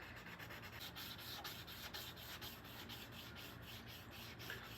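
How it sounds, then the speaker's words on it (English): Hand sanding on a car body panel during a 1956 Ford Victoria custom build, a soft, steady rasping rub with faint repeated strokes, quiet and close with no talking. "when you're wet sanding or sanding, period, let the sandpaper or the sanding pad or whatever, let it do the work for you"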